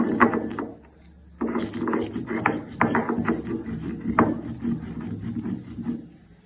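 Three fried green chilies are crushed and ground on a stone grinding slab (pata) with a stone roller, heard as close, rhythmic rasping and rubbing strokes of stone on stone, steady and unaccompanied by talk.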